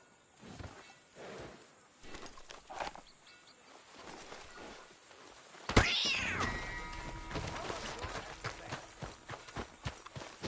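A cat meows in the video game Skyrim, a sharp, loud cry that bends down from a high pitch. It comes mid-clip against a quieter game backdrop that has hoof-like clopping, and someone speaks softly before it.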